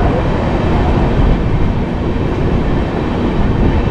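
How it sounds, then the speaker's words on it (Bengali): Passenger train pulling out of Mecheda station on the Howrah to Ranchi route, a steady loud rumble of rolling wheels and carriages throughout, without pause. "মেচেদা ছেড়ে দিল, চলে গেল।"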